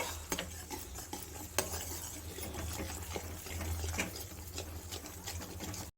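Besan laddu mixture being stirred in a pan off the heat: a steady scraping and stirring texture with soft sizzling and occasional clinks of a utensil, close and fairly quiet, no talk.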